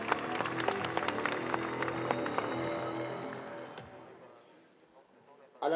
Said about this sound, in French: Applaudissements pour M. Meignet Pelé, mesdames et messieurs.